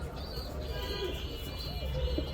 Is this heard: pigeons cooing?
yes